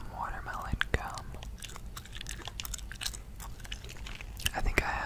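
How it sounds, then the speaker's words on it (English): Watermelon gum is chewed close to the mic with soft, wet smacks and crunchy clicks in an irregular rhythm, under quiet whispering and faint keyboard or controller taps. "while we work on some watermelon gum"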